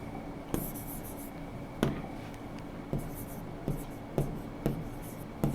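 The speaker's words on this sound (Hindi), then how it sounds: "मैं लिख देता हूँ" A teacher writes on a board in a classroom, with chalky strokes and sharp taps at the start of each stroke, recurring roughly every second, close and clear over a low room hum.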